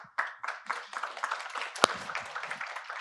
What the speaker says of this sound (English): a round of applause to Chaitanya, please